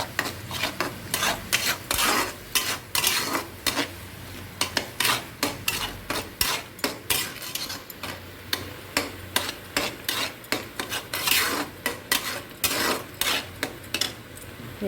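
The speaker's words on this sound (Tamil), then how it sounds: "மஞ்சள் போட்டு உப்பும் போட்டு ஒன்றா வதக்கினா இப்போ நல்லா டேஸ்ட் பிடிக்கும் வெங்காயத்து கூட." A utensil scrapes and stirs onions with turmeric and salt in a pan for a fish fry curry, making repeated close scraping strokes in an irregular rhythm with no talking.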